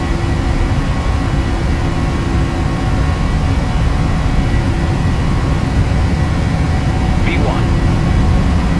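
Ryanair jet engines at takeoff thrust during the takeoff roll, a loud, steady broadband roar heard from inside the aircraft.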